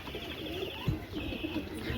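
Pigeons coo softly in a low continuous murmur during watering, with a brief thump partway through and a faint steady hiss underneath.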